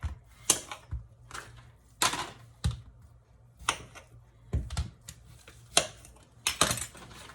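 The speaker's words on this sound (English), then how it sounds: "Stan wants some zucchini and squash to make on the grill, and so I'm going to cut those up right now." A knife cuts zucchini and squash on a board, with sharp, separate chopping taps at an uneven pace, close and fairly quiet, and no talking.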